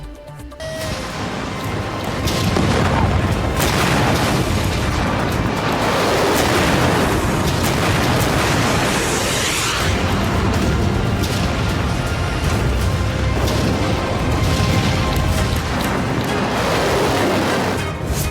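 Loud, continuous roaring blasts and rumbling from missile strikes in the Iran-Israel war, a sustained dense wall of explosive noise with swelling bursts throughout.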